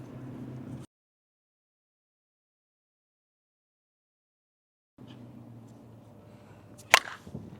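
Combat CR-1 slowpitch softball bat striking a ball during USSSA hitting, a single sharp loud crack standing out over faint outdoor background noise after a stretch of silence.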